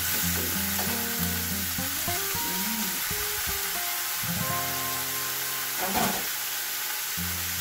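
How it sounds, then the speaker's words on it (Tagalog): Pork ribs sauté in olive oil in a pan for a mung bean stew, with a steady close sizzle and hiss running throughout alongside some tonal kitchen sounds. "Olive oil na natin pang-igisa."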